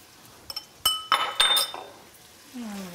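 Several clinks and clatters of metal and glass in a pan, a few sharp knocks close by, then a soft rising sizzle at the end as garlic goes into the pan.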